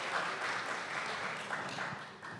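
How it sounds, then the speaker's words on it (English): Symposium audience on student experience clapping for themselves, a soft, steady round of applause heard from a distance in a large room, fading slightly near the end. "Round of applause for yourselves for being able to participate"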